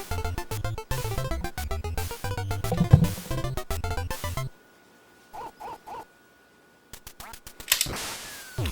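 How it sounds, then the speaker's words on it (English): Ducks quack in the NES game Duck Hunt as a short burst of three electronic calls sounding alone in a quiet gap, framed by loud chiptune music and game effects before and after. "Am I controlling this duck? That is a slow-ass duck."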